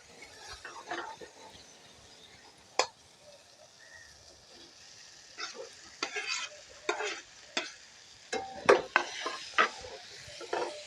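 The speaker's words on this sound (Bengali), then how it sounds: "এর মধ্যে এখন দিয়ে দেবো ভেন্ডি ভাজাগুলো" Fried okra is stirred into a sizzling spice masala in a pan, with a soft, faint frying hiss broken by sharp scraping and clicking strokes that grow more frequent toward the end.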